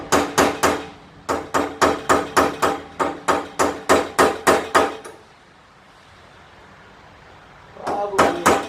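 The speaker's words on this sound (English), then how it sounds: "I got a little chisel here." A hammer strikes a chisel in quick, sharp metallic blows against a trailer bearing, about a dozen close, rhythmic hits, then a pause, then a few more strikes.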